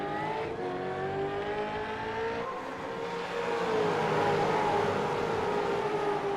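V8 Supercars race cars roar off the start on the Lakeland oval, a dense, sustained engine drone with rising pitch as the pack accelerates, heard at a distance with no talk.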